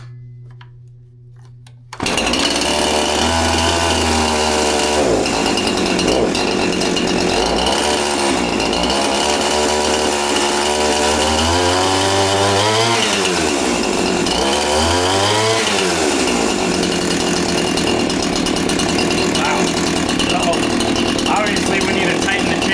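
A previously dead Husqvarna chainsaw, just repaired, bursts into life after a quiet moment and runs loud and close, its engine rising and falling as it revs up and down.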